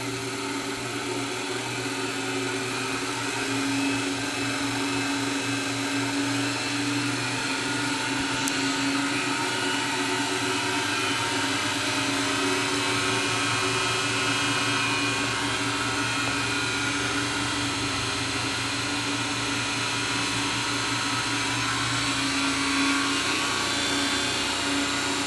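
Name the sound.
free energy generator motor spinning at about 2200 RPM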